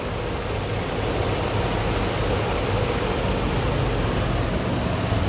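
A 2015 Ford F-150 XL's 3.5-liter engine idles smoothly and steadily, a close, continuous low rumble with an even hum that holds without a break.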